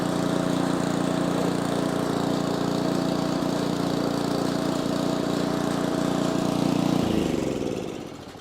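A snow blower engine runs steadily and loudly at close range with a constant idle drone, then drops away abruptly near the end as the auger lever is pulled and the pitch sags.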